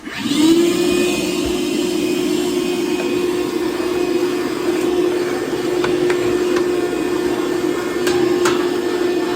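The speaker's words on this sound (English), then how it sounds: "the next important part is vacuum for all your wire clippings" A loud, steady vacuum cleaner drone runs throughout, with a constant whine and occasional faint clicks of wire clippings being sucked up during a smart home install.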